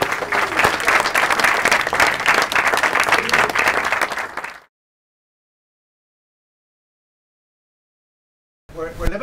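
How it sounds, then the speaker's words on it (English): Crowd at the ProKick kickboxing headquarters claps in a loud, dense burst of applause that cuts off abruptly into silence, followed by a brief return of sound at the end. "Give them a round of applause"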